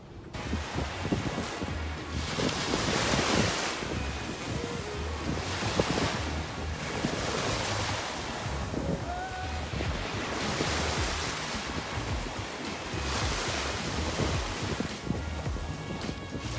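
Ocean surf keeps washing onto a beach with steady wind gusting across the microphone, broad and continuous, with waves swelling every few seconds and no voices.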